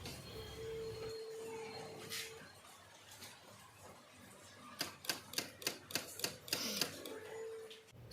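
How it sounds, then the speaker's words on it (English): Rapid run of sharp, dry clicks from the starter of a Royal Enfield Interceptor 650 with a dead battery, about eight evenly spaced ticks in quick succession, close and clear over a faint background hum. "when we press the ignition switch, the bike doesn't start and you can hear the starter clicking"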